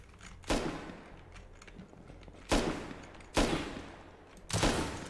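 Four sharp, loud gunshots ring out at irregular intervals over a low background hum, each with a short echoing tail, typical of video game gunfire in Rust.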